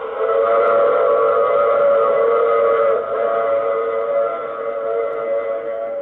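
A train sound effect in a 1950 radio drama, a long sustained whistle-like tone with stacked steady pitches, loud and unbroken, dipping briefly midway before continuing, with no voices over it.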